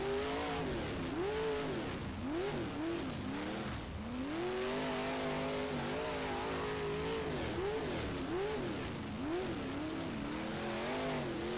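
A powerful race car in a racing video game revs hard with repeated rising and falling engine sweeps as the rear wheels spin and the tires squeal, loud and continuous with no talk.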